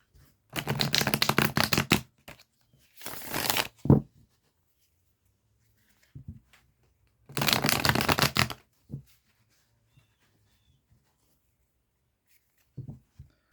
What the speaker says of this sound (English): This is the vice versa tarot that I'm using as oracle cards